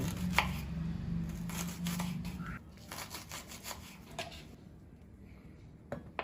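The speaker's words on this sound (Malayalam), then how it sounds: "വളരെ ചെറുതായിട്ട് അരിഞ്ഞെടുക്കണം" A knife chops onions very finely on a board in quick, irregular taps, close and quiet, with the pace slowing toward the end.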